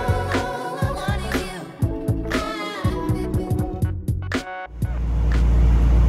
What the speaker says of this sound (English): I've got the car running.